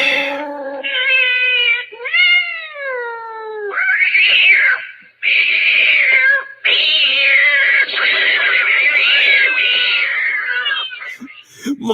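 A played recording of cats fighting and caterwauling: loud, drawn-out wavering yowls and moans trade back and forth almost continuously, ending in a sudden brief scuffle.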